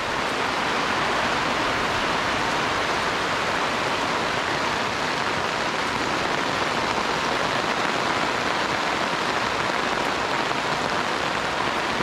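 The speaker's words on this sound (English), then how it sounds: "That'll tell us how much rain we get in this little shower." A light rain shower falls in a steady, even hiss of close drops that holds without a break, with no voices.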